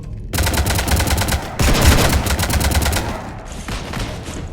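Rapid automatic gunfire raking a ship in Mass Effect 3, loud continuous bursts of dense shots with a brief pause and a renewed volley, no voices over it.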